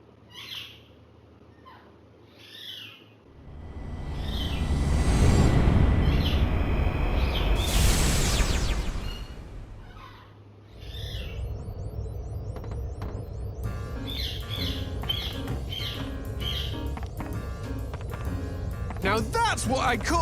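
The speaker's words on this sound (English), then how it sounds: "These birds don't know when to be quiet." Birds in the Rogue Galaxy game repeat owl-like calls and chirps alongside a swelling roar and scattered effects, with voices in the scene.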